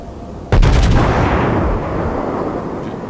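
Naval gunfire in the World of Warships video game, a single loud close boom with shells striking the ship, followed by a rumbling roar that slowly fades.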